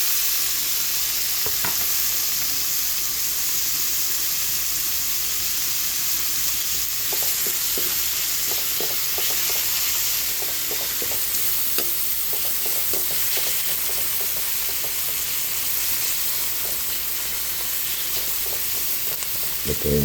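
Bitter gourd sautés for ginisang ampalaya with tomatoes in a pan, giving a constant close sizzle and hiss broken by scattered clicks and scrapes of a stirring utensil, without any talking.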